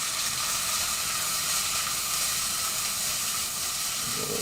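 Onions hit a very hot pan, giving a dense, steady hiss and sizzle with crackling pops throughout, close and moderately loud.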